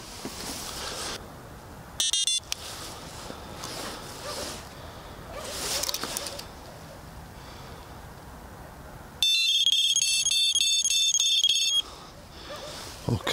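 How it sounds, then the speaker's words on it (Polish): A loud electronic alarm blares in a steady, harsh tone for a few seconds, preceded by a brief beeping burst and quiet background noise. "Włączę alarm."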